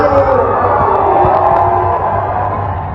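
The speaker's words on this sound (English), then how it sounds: "His fans were cheering for him." Crowd at a Chris Rock comedy show cheering loudly, a dense sustained roar of voices and whoops that holds steady and eases slightly toward the end.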